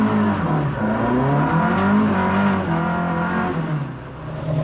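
Convoy of classic Ford cars, including a Mark I Focus RS, on the road at a Classic Ford Show, steady loud engine drone and revving close by, with pitch shifting as speeds change.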